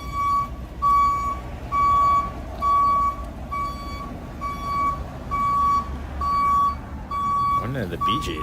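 A truck reversing alarm on a city street in Toronto in winter beeps in a steady, regular series of loud tones, about a dozen over several seconds, with a person talking and street noise underneath.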